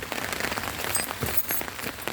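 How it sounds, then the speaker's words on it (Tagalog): Light rain patters steadily on a shelter at a soybean farm in Paju, Korea, a dense, even hiss of close drops with no talking. "Mahina lang na ulan"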